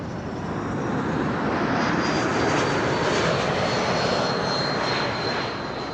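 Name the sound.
Air Baltic airliner, likely diverting, at Amsterdam Schiphol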